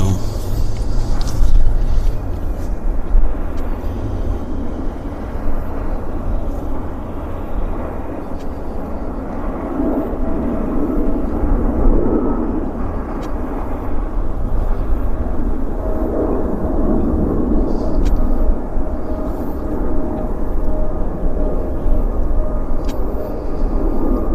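A large Air Canada airliner lands at Vancouver airport, a steady broadband jet roar rising and swelling from mid-distance over about twenty seconds, with faint voices underneath.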